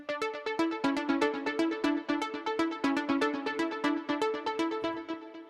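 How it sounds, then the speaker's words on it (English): Two layered pluck synth presets, Plucky Number 13 and Pluck Up My Life, in the ANA 2 synthesizer play a fast, bright sequence of short plucked notes with a steady bouncing rhythm, fairly quiet and with no voice. "we have a combination of Plucky Number 13 and Pluck Up My Life"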